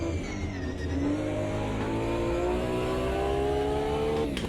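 Group A race car in Automobilista 2, its engine revving up steadily through a long pull with a rising harmonic whine, loud and continuous for several seconds, ending with a brief tire squeal.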